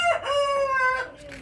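A chicken crows loudly and close, a drawn-out cock-a-doodle-doo call with a clucking tail, on a small poultry farm in a town.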